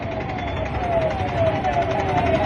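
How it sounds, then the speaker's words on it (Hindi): An ambulance siren wails steadily while the vehicle sits stuck in jammed city traffic, moderately loud amid a constant roar of engines and street noise, with a reporter talking faintly in the background. "अब आप देख लीजिए कि एक एम्बुलेंस है वो भी यहाँ फंसी हुई है"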